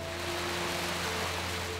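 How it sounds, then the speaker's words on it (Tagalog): Heavy rain pours down in a steady, dense hiss with no pauses, close and even throughout, over a low constant hum. "biglang bumuhos ang malakas na ulan."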